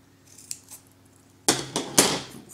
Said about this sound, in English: When you get to the ends, because it's rounded, I'm going to cut little notches in it